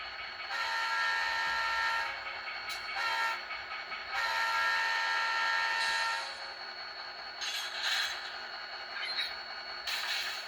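A long, sustained horn blast from an Atlas GP40-2 model locomotive's sound decoder, sounding twice for about two seconds each, with shorter toots between and after.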